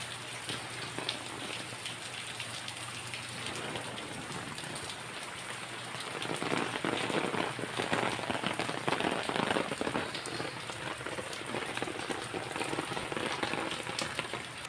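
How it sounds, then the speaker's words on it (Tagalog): Steady rain patters on a surface, growing heavier and denser about halfway through, with a continuous hiss of drops and no voices. "Umuulan mga wow tapos mainit."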